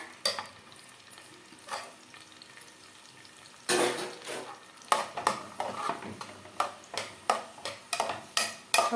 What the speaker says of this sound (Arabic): هنزل فيهم في الزيت كده والسمنه بتاعتنا.